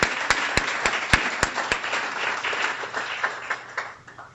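Audience applause at a guide dog class graduation, a crowd clapping with several crisp, loud claps close by in a quick rhythm early on, the clapping gradually thinning and fading.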